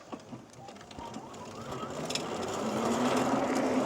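A homemade 4000W electric drift trike motor accelerating hard in power mode 3, a rising whine that climbs steadily in pitch and grows louder over a few seconds, close by with rushing road and wind noise.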